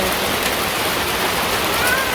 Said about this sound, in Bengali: হালকা বৃষ্টি একটু কমছে